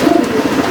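A racing pigeon coos up close, a loud, soft, rolling run of low throaty pulses that carries on steadily with no voices over it.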